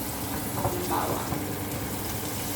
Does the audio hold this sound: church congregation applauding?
no